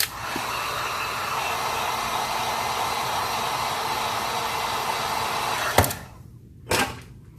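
A heat gun warms the adhesive inside a liquid-damaged iPhone 6s, giving a steady, loud blowing hiss for about six seconds before it cuts off, followed by a couple of short bursts.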